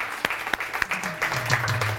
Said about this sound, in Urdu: پہلے تو ان کے لیے تالیاں جی کہ یہ اتنی بریو ہیں